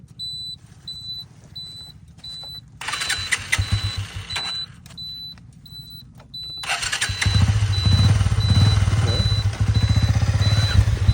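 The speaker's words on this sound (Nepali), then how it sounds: "स्टार्ट हुन्छ कि बाइक हेर्नु त" A motorbike on a mountain road trip from Mustang to Pokhara in Nepal: repeated starter attempts under a steady electronic beeping, then the engine catches and runs with a loud, continuous rumble.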